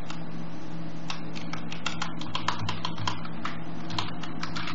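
A user name is typed on a computer keyboard during Git setup on Ubuntu 18.04, giving a quick, irregular run of close, light key clicks over a steady low hum.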